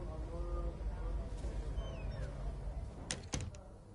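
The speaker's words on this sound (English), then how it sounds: "Shut the door, Cal." A door swings shut in an indoor room, landing as a couple of sharp, close knocks near the end after a stretch of low murmur and room noise.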